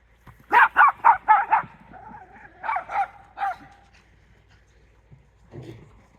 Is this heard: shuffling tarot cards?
no